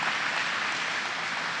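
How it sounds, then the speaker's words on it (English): Applause from a large audience at a government announcement event, a steady, dense wash of clapping heard alone without talk. "Give it a round of applause."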